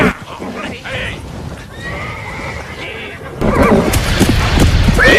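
Horses neigh and whinny in a period adventure drama, with hooves clip-clopping and a louder, rougher whinny toward the end; the animals sound close and restless.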